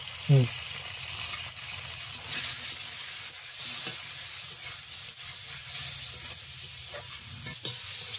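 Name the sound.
potato and pointed gourd frying in a pan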